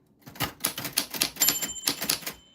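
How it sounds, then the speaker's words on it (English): A manual typewriter clacks through a quick, irregular run of sharp, close keystrokes, with a bright ring of the carriage bell partway through. "the typewriter bell fell on your name"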